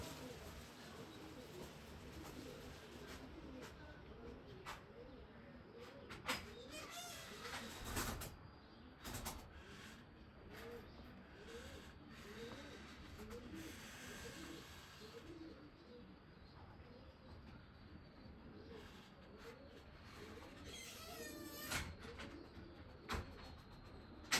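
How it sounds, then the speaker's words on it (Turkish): Soft, repeated cooing of several pigeons or doves close by, a low rhythmic murmur with occasional wing flutters and light rustling. "bunlar yumurtla, yumurtlamaya hazır kuşlar"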